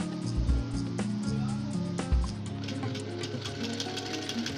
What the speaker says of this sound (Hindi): इस तरह से अब हम लेग्स पे फिटिंग की सिलाई लगा रहे हैं।